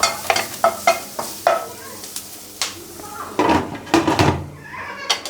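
Food fries in a pan while a utensil stirs and scrapes it in irregular knocking bursts over a soft sizzle, with louder clattering strokes toward the end.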